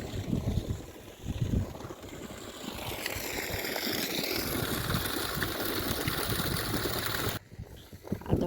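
A water pump motor runs on a farm plot, a continuous loud broadband drone with rushing, splashing water, briefly cutting out near the end.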